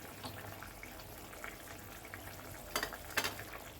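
Fish pieces go into a pan of boiling fish curry broth, with a quiet bubbling simmer and two soft splashes and clinks near the end.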